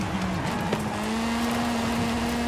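Car engine driving off-road in Forza Horizon 5, a steady droning hum with a low tonal note that holds level, close and continuous with faint rumble beneath and no talking.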